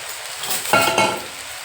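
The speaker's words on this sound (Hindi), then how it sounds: "अब बारी आ गई है हमें चावल डालने की। तो ये चावल हम डालते हैं" Uncooked rice poured into a pan of cooked tomato, carrot, onion and garlic, a brief rattling patter with light clinks against the pan, close and alone.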